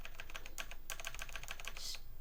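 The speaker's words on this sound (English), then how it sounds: "Stupid keyboard." Rapid close tapping on a computer keyboard, an uneven run of crisp clicks and keystrokes with brief pauses, steady and fairly quiet, no voices over it.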